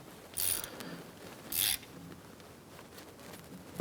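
A ratchet snugs a plug into the rear axle of a 1994-2004 Chevrolet S10, giving two short clicking bursts about a second apart plus a brief click at the end, faint and close.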